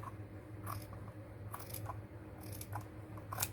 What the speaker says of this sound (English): I'm going to work on trimming this side up again,